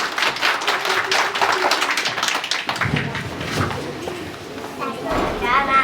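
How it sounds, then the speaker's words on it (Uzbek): Young schoolchildren clap together at a first-grade alphabet celebration at a school, a brisk burst of applause mixed with talk and hall echo. "Bolajonlar, qarsak chalamiz"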